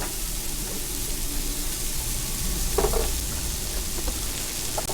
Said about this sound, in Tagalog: Bawang sibuyas, gisa lang.